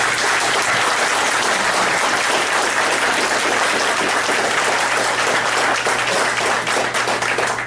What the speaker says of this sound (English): let's give all these kids one more big round of applause